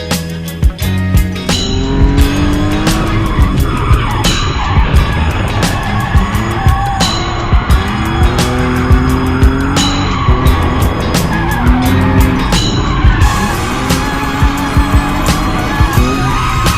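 A pretty much stock BMW E46 drifts with its engine revving hard and tires squealing in repeated long bursts, loud and close, with the engine note rising and falling through each slide.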